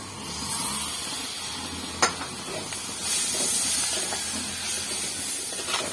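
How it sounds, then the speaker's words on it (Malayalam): Tomato dropped into a pan of frying chilli and spice powder for a Kerala prawn curry, giving a steady close sizzle with a sharp crackle burst and a hissing swell as it settles. "അതിലേക്ക് നമുക്ക് തക്കാളി ചേർക്കണം ഒരു തക്കാളിയാണ് ഞാൻ ചേർക്കുന്നത്"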